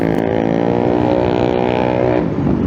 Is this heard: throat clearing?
no